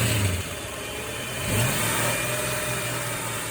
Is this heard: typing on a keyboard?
no